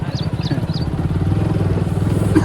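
A motorcycle engine runs close by with a throbbing low putter that rises slightly, while a family rides and faint chirps sound in the background.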